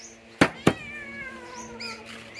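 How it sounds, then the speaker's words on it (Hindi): A cat meowing in summer heat at a mud house in Pakistan gives a drawn-out, close wavering meow, with two sharp knocks just before it and faint further cries after. "ये बिल्ली भी आ गई है गर्मी में ना,"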